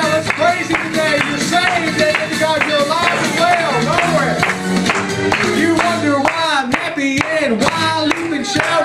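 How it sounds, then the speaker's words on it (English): A church congregation claps along in a steady rhythm to a gospel praise song, the sharp regular claps mixed under loud singing and music. "Clap your hands, everybody."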